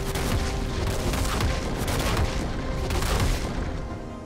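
Gangplank's Cannon Barrage ultimate in League of Legends rains down a dense, continuous volley of cannon booms and blasts, loud and rumbling for several seconds before easing slightly at the end.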